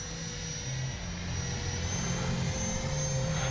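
A Freewing Banshee RC jet airplane flies on landing approach, its electric ducted-fan whine a steady, loud, close roar with a high tonal hum held throughout, with no talking.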